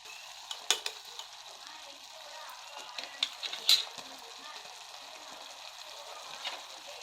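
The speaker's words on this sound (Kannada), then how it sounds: "ಈಗ 1 ನಿಮಿಷ ಹೀಗೆ ಒಲೆ ಮೇಲಿಟ್ಟು ಕಂಪ್ಲೀಟ್ ಎಲ್ಲ ಮಿಕ್ಸ್ ಆಗೋ ಥರ ಮಾಡಿ" Jaggery rice (gudanna) being stirred in a pan on a stove, with soft continuous scraping and a faint sizzle, punctuated by a few brief clinks of the spoon against the pan.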